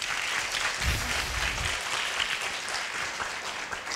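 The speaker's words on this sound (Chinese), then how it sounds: "给他掌声好吗？" Sustained applause from a lecture audience at Asia University greets a television drama creator: a dense, even clatter of many clapping hands that continues steadily throughout, with no talk over it.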